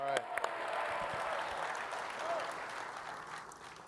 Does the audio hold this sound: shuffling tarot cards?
no